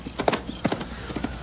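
A horse trotting in a film scene, with quick, rhythmic clip-clop hoofbeats that sound fairly close, mixed with whinny-like bursts.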